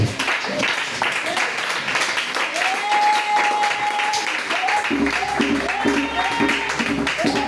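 Church congregation acclaiming with loud, dense applause filling the room throughout, with cheering voices and some music joining in partway.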